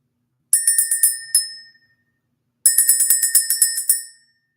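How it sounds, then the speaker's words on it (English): A bell rung to clear energy sounds in two bursts of quick, bright repeated strikes, each fading into a brief ringing decay, with no talk. "Let's ring the bell."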